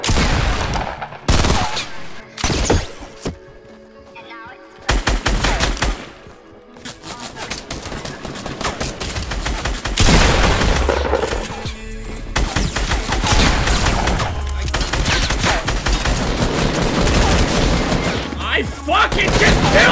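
Burst rifle fire in the Fortnite battle royale game, with rapid clusters of loud gunshots repeating throughout, alongside other distant and nearby gunfire and in-game explosions in a dense, continuous firefight.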